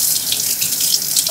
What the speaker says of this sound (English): I gotta wash my hands.